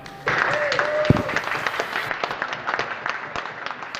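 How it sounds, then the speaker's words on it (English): Applause from a crowd for a second-place championship driver at a racing awards, dense scattered clapping at moderate volume that starts abruptly and continues steadily, with a brief tone and thump early on. "round of applause please for our second place championship driver, Dan Ryan"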